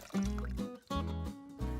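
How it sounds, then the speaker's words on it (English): Boiling water pours from a kettle into a cup over spoonfuls of instant coffee, heard as three close, steady bursts of splashing and filling separated by short pauses. "my boiling water is ready, so let's put it into the cup"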